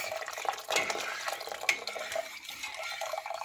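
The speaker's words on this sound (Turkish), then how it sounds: "Daha sonra içine kettle'ımızdaki suyumuzu döküyoruz" Water from a kettle pours into a pot in a brief, continuous splashing stream, close and moderately quiet, with faint clinks of cookware.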